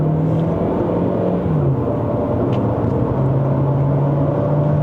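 Chery Tiggo Cross with a 1.5 turbo engine accelerating on the road, heard from inside as a loud steady engine drone that rises in pitch with a brief shift dip, continuous rumble underneath.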